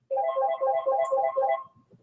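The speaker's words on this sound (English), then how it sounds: "When the phone rings, all things must stop." A classroom phone rings with a bright electronic melodic trill that starts abruptly, repeats its warbling pattern for about a second and a half, then stops, clear and fairly close in a quiet room.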